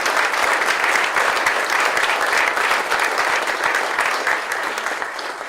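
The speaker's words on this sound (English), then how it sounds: "Let's give her a special round of applause." A large audience at an LSU College of Engineering campaign event applauds donor Phyllis Taylor with sustained, loud, full-room clapping that tapers slightly toward the end.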